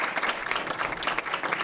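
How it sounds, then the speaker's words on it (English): Steady applause from a seated audience at a school board meeting, honoring a high school student, continuous and fairly close with no voices over it. "Big round of applause"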